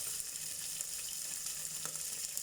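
Tulingan fish frying in hot oil in a covered pan, a steady faint sizzle with small spattering crackles and a single soft knock, close but quiet, no speech.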